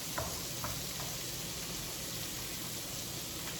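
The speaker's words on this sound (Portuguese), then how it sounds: "eu estou refogando os pimentões" Red and yellow bell peppers fry in a paella pan with a steady, dense sizzle, close and even throughout, with a few faint scrapes of stirring and no talk.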